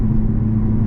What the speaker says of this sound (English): I'm waiting for these burbles to stop